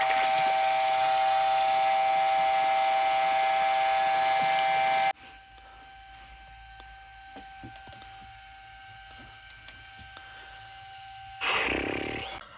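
A Ryobi One+ 18V transfer pump runs with a loud, steady hiss and whine for about five seconds, then cuts out, leaving a quieter background with small knocks and a brief burst of noise at the end.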